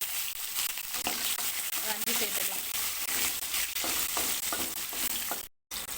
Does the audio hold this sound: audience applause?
no